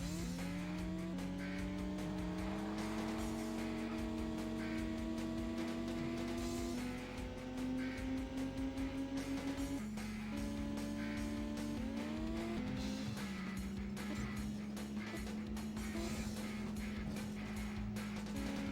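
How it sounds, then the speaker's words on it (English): A race car's engine in the N64 game World Driver Championship drones with a steady, buzzy tone that slowly steps up and down in pitch, sounding close to stalling. Faint tire and road noise sits under it throughout. "This engine just sounds like it's stalling."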